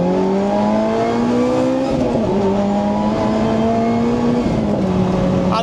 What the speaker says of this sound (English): Can you believe that's a 4-cylinder that sounds like that?